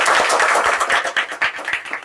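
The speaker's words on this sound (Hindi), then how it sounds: "तो भाई हम चाहेंगे एक बार उनके लिए जोरदार तालियां होनी चाहिए।" Audience applause at a community gathering, loud dense clapping with rhythmic individual claps standing out, heard without speech.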